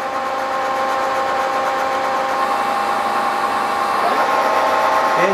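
A Cincinnati Cinova 80 universal milling machine runs with a steady mechanical hum and a whining tonal drone at constant speed, close and loud, faint voices nearby.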